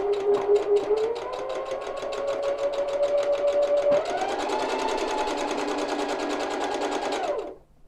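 A sewing machine runs steadily while stitching the belt of a tie jacket, its fast, even needle rattle continuing for several seconds before winding down and stopping near the end.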